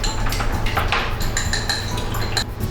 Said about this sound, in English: Beat the egg.